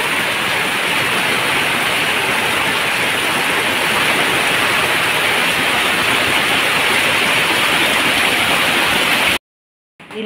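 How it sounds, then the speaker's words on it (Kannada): Heavy rain pours steadily alongside a swollen, fast-running river on a dark, stormy day, a dense continuous roar of water that stays loud throughout and cuts off abruptly near the end. "ಇವತ್ತು ಜೋರು ಮಳೆ ಬರ್ತಾ ಉಂಟು, ಫುಲ್ ಕತ್ತಲೆ ಆಗಿದೆ ನೋಡಿ."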